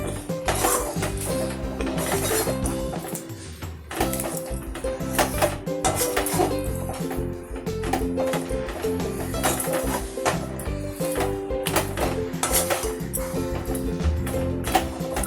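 A spoon stirs and scrapes through a pot of traditional Tamil morkali batter, giving repeated close metallic clinks and rubbing scrapes in an uneven rhythm, with the occasional faint murmur of a voice.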